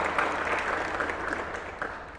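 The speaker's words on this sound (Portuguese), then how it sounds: "uma salva de palmas para ele" A short burst of audience clapping at a talk, a dense, even patter of many hands over a low hum.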